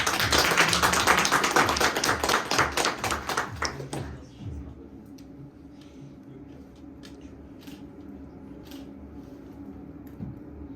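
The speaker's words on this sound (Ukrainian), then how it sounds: "Тож зустрічаємо оплесками" Audience applause greets a performer at a graduation house-concert evening of a creative studio, dense clapping for about four seconds that then breaks off into quiet room tone with a few scattered taps.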